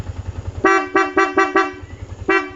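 Dual horn on a Yamaha 150 FI motorcycle blares in five short, evenly spaced honks followed by one more after a pause, loud and close, over a low idling engine.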